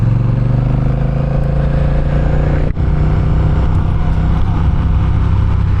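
A Honda Rebel 1100 DCT SE, an automatic motorcycle, gives a loud, close, steady engine drone that rises gently under light throttle, with one brief dip partway through and no talking.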